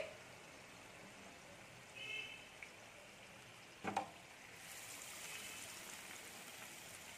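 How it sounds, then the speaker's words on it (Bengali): Besan-coated snacks fry in hot oil with a soft, steady hiss and bubbling, faint and even throughout, with a brief louder clatter near the middle. "যেগুলো এমনি ছেড়েছিলাম সেগুলো এখনো লাল লাল ভাব আসেনি, ওই জন্য আমি এগুলোকে একটু ভাজতে দিচ্ছি"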